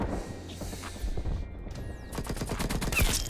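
Nail gun firing in Black Ops Cold War, a rapid train of sharp clicking shots in the last second, preceded by quieter game noise and movement.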